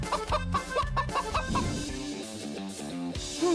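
A person imitates a duck's quacking with a run of short, nasal, voiced squawks in quick rhythm, loud and close, followed by a few more drawn-out calls.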